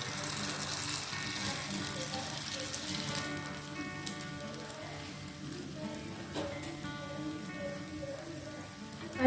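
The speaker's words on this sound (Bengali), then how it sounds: "এবার 1 হাতা নিয়ে আমি তেলের মধ্যে দিয়ে দেবো।" Kheer malpoa batter, a ladleful at a time, fries in hot oil for a Janmashtami sweet, giving a steady dense sizzle that runs throughout at an even level.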